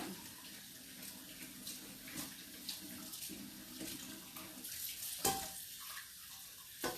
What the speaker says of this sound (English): I'm just going to give my pot a little bit of a rinse